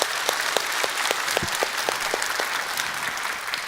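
A church congregation claps together for several seconds, a steady, fairly close round of applause that fades slightly near the end.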